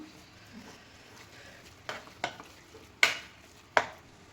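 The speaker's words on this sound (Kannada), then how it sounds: "ಚೆನ್ನಾಗಿ ಮಸಾಲ ಎಲ್ಲ ಕಡೆ ಮಿಕ್ಸ್ ಆಗೋ ಥರ ಇದನ್ನು ಮಿಕ್ಸ್ ಮಾಡ್ಕೋಬೇಕು" A spoon stirs stuffed capsicum masala in a pan over a low gas flame, making a few soft, irregular scrapes and clacks against a quiet sizzle.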